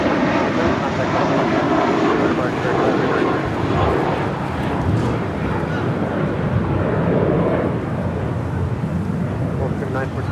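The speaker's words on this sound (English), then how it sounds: "2330 departing to Baltimore on an A320" A Spirit Airlines Airbus A320 jet departs LAX bound for Baltimore, a broad, loud, sustained engine roar with wind-like rush filling the whole stretch; a voice talks over it.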